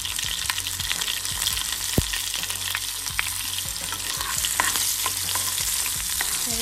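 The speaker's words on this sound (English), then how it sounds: "We'll crackle a bit, then add the curry leaves. Add the green chili." Curry leaves and green chili crackle and sizzle in hot oil during the tempering for a grated carrot salad, a steady close-up frying hiss dotted with sharp pops.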